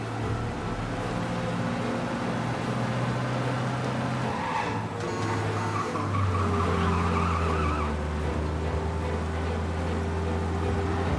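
Car in Mafia Definitive Edition racing at speed to shake pursuers, engine droning loudly with long tire squeals and skidding sweeps, continuous and close with no talk.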